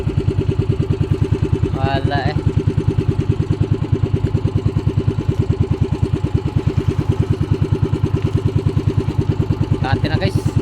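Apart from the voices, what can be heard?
engine running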